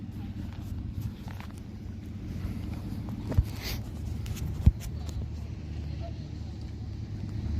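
Steady low rumble of road traffic with passing cars, two short sharp knocks standing out midway, under a continuous engine drone.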